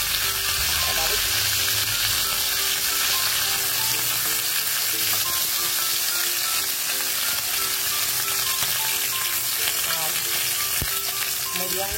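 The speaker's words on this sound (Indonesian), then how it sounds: "Oke, kita goreng ya ayam popnya ya." Pieces of pop chicken frying in hot oil, a steady, dense sizzle and crackle close up that runs without a break.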